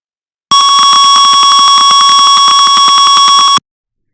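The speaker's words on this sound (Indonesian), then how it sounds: "maka buzzer akan berbunyi seperti ini" Piezo buzzer on an Arduino in a Tinkercad circuit simulation, triggered by high temperature, emits a loud, steady high-pitched electronic tone with rapid pulsing texture, lasting about three seconds and heard alone.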